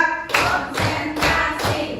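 A group of people clapping together on a count at a school training session, with several loud, evenly spaced bursts of claps close by and no talking.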